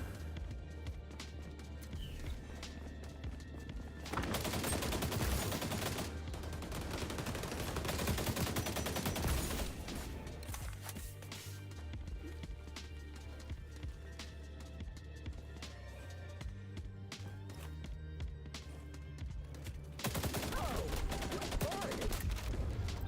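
Gunfire with incendiary bullets in the video game XDefiant, coming in heavy bursts and sustained volleys over a long stretch, with busy in-game action noise and occasional brief talk.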